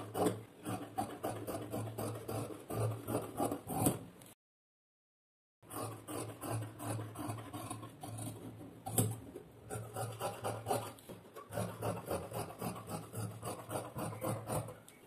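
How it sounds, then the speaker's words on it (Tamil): Scissors cut through plain blouse fabric with a steady rasping, rubbing sound over a low hum, interrupted by one brief silent pause. "இப்போ இதை அப்படியே கட் பண்ணி எடுத்துக்கிறேன்."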